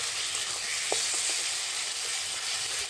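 Potatoes for a Bengali katla fish curry, just salted, fry in hot oil with a steady close sizzle, a few soft stirring clicks near the middle and no talking, ending abruptly.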